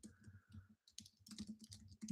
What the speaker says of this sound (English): I'm typing this prompt